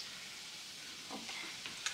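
Oil sizzles in a frying pan while pancakes cook, a soft steady hiss with a few faint clicks and pops near the end.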